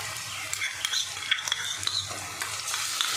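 Onion with garlic paste fries in a pan, a soft steady sizzle broken by repeated light spatula scrapes and taps as it is stirred, close and fairly quiet.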